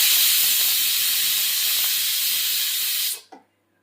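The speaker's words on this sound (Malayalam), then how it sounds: "ഹൈ ഫ്ലെയിമിൽ വെച്ച് ഒറ്റ വിസിൽ നമുക്കിത് അടുപ്പിച്ചെടുക്കാം." Pressure cooker cooking rice on high flame releases its whistle, a loud, continuous hiss of escaping steam lasting about three seconds before cutting off sharply, followed by a brief faint clink, close and without talk.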